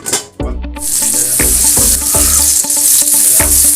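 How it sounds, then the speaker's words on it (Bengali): Spicy oil frying hard in a pan while cooking amra dal, a steady loud sizzle with brief pauses and rhythmic stirring scrapes throughout. "এখানে ঝাল তেল ফ্রাই হচ্ছে"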